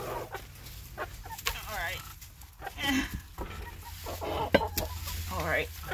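Chickens cluck and chatter close by in a steady run of short calls, with a person talking quietly underneath.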